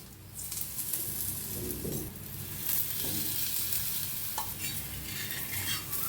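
Dhapate flatbread sizzling in a pan as a little ghee is poured slowly over it, a steady crackling fry with a few soft spatula scrapes, close and continuous throughout.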